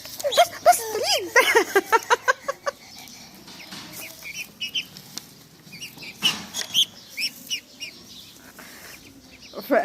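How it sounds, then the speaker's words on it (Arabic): Newly acquired domestic ducks quack and chatter up close in a rapid burst, then call more sparsely with wing flaps and shuffling. Someone talks over the birds in places. "فانا جبت بط، هربي بط يا جماعه"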